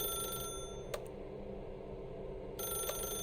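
A telephone in The Stanley Parable video game rings in two short bursts separated by a pause, faint against a quiet ambient hum.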